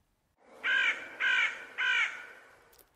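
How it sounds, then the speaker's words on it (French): A crow gives three loud, hoarse caws in an even rhythm, each clear and close, and then the sound fades into quiet. "Quant à la voix du corbeau,"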